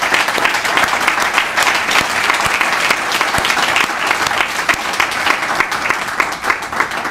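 Audience in a room applauding at a tribute event, a loud and sustained burst of dense clapping with crisp individual claps spread evenly throughout.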